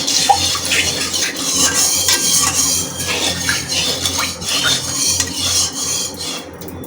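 Salt being stirred into hot oil in a pan before cooking Tara Baim fish broth, with a spoon scraping and clinking against the metal in a steady, close rhythm over a low sizzle.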